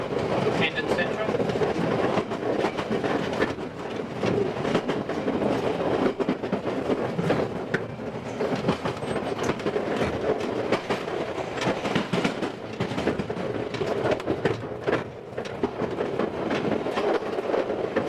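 A London Underground tube train approaches Hendon Central station with a loud, continuous rumble and rhythmic clatter of wheels on track that stays heavy throughout.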